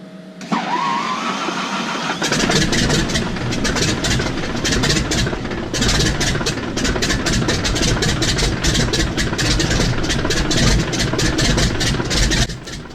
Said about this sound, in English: I'll be quiet so you can appreciate the lovely sounds of the 985 starting up.